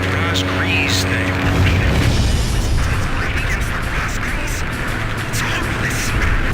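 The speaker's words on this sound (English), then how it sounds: "More secondary explosions" Deep booming explosions in the Ace Combat 5 combat flight game rumble continuously and loudly, with muffled radio voices faintly underneath.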